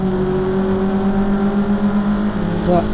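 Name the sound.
race cars driving on circuit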